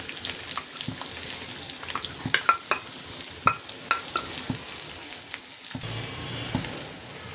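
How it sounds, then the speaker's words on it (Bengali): Onion fries in oil in a frying pan for tempering vegetable khichuri, a constant close sizzle broken by sharp stirring clicks and scrapes, with no voices. "আমি একটু পেঁয়াজ দিয়ে একটু বাগার দিব।"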